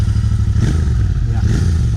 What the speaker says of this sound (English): a brief press of the starter button quickly fires up the motor, and it erupts into a smooth but deep and offbeat pulse